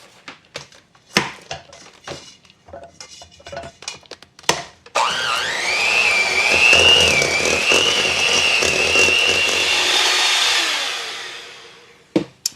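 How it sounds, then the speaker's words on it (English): An electric mixer beats butter for buttercream icing, starting after a few seconds of kitchen clatter. It whirs loud and steady, its whine rising slightly, for about seven seconds before stopping, followed by a final knock. "I've been beating the butter for about 2 minutes now"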